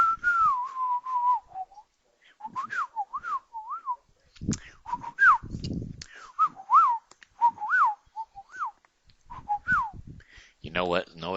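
A person whistles an imitation of a whippoorwill, a repeated three-note birdlike call, several times in a row, with short bursts of talking and rustling between the phrases.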